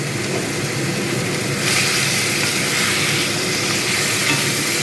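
Chicken, marinated two hours for butter chicken, fries in hot oil with a dense, continuous sizzle that swells slightly louder partway through and holds steady, close and alone.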